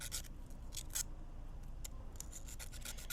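Fine sanding on a miniature antique BBQ model gives short, crisp scratchy strokes in irregular bursts, close and quiet over a low background hum, with no talk.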